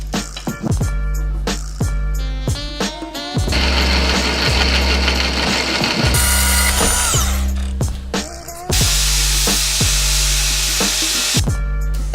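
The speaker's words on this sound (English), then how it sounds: "The next step is gonna be welding this fair lead mount to the plate" Arc welding a fairlead mount onto a steel winch plate of a homemade SUV bumper: loud continuous crackling sizzle in long sustained bursts, broken by short pauses and sharp clanks, close up with no talking.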